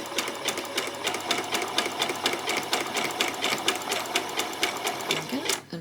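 A sewing machine runs a zigzag stitch along a doll's peasant top, a steady fast rhythmic clatter of needle strokes held close for several seconds before slowing and stopping near the end.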